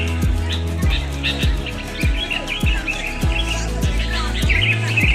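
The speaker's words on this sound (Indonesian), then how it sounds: "Sini berdiri, ini ada burung nih." Birds chirp and tweet in quick bursts over a loud, steady rhythmic thumping of machinery close by.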